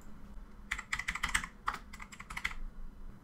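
Fast, close keystrokes on a computer keyboard typing into the Windows 11 search box, a quick burst of clicks, a short pause, then another run of taps with no talking.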